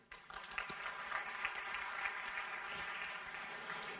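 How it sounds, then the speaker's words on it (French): Scattered audience applause at a French tech conference, a dense patter of clapping that holds at a fairly even level for several seconds, faint and a little distant. "Vous pouvez applaudir Bucket quand même."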